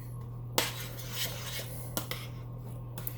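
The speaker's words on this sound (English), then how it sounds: "I'm going to mash that cheese" Melting cheese being mashed in a pan for a cheesy one-dish meal, soft scraping and rubbing with a few sharp utensil knocks against the pan, close, over a steady low hum.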